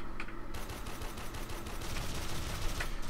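Rapid gunfire in the video game Warframe, a dense, steady rattle of shots aimed at the player that runs loud and unbroken for the whole stretch.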